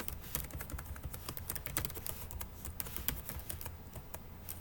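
Rapid, steady keystrokes on a computer keyboard as a name is entered into an online prospect form, close and clear with no talk over them.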